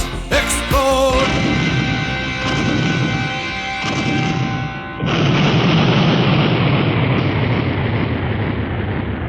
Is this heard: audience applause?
no